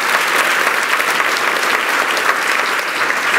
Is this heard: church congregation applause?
yes